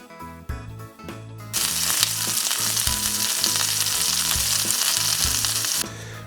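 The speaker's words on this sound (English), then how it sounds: "once the oil is hot enough that when you put the steak on there, it sizzles right away" A loud, steady sizzle of steak frying in hot oil bursts in and holds, after a few quieter seconds of clinks and rhythmic background music.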